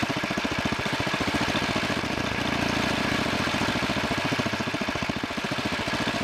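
A two-engine Wheel Horse garden tractor idles with its front belt disengaged, a steady close-up putter of rapid, even firing pulses that runs without a break and with no talk over it.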